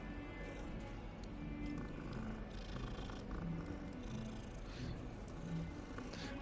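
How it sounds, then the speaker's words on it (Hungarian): A cat purrs inside the video game Hogwarts Legacy, a low, steady rumble running continuously and evenly beneath faint in-game ambience, with no pauses or breaks. "Dorombolást hallottam."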